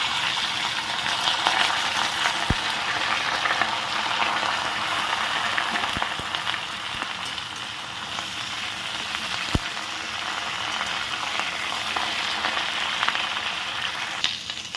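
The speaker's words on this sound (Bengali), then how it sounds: "দেখো সব সবজিগুলো দিয়ে ভালো করে একটু নাড়াচাড়া করে নিয়েছি" Vegetables including potato and raw banana fry steadily in a pan for a Bengali sukto, a continuous close sizzle with occasional stirring clicks and scrapes, no talking over it.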